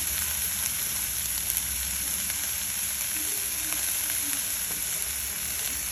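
Sesame seeds sizzle in hot oil while a cabbage and tomato curry cooks, a steady, close frying hiss that runs unbroken throughout with no talk.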